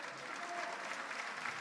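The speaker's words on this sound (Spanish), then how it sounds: "Reciben los aplausos las tres autoridades que estuvieron ubicadas en la mesa de honor." Applause for three officials seated at the head table during a mayoral swearing-in ceremony in Lima, a steady, dense clatter of many hands from a large audience that continues evenly throughout.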